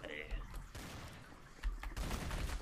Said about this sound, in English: and now he's shooting at me.